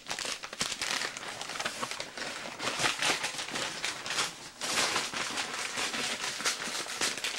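Wrapping paper crinkles and crumples steadily up close as a parcel is unwrapped, with dense rustling bursts throughout and no speech.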